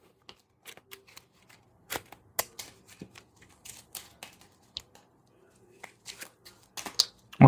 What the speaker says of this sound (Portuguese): Aí você vai embaralhar aqui.